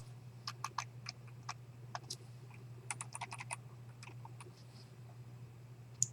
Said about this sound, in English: Right mouse click, paste.